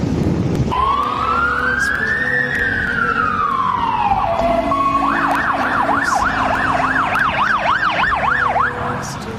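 A local fire brigade's siren sounds loud and close near an anchorage, with a long rising-and-falling wail that gives way to a rapid, repeating yelp before cutting off.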